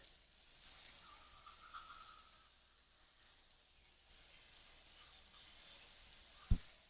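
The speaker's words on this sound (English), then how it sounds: "Got that sizzle." Beef patties sizzling in a hot dry pan, a soft, steady hiss that stays faint and even throughout, ending with a sharp knock near the close.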